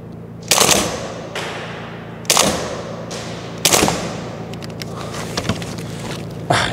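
Shots from a KWA Elite Force 416A4 gas blowback airsoft rifle: loud, close, sharp reports with metallic bolt clacks, coming singly or in quick pairs with pauses of a second or more between them.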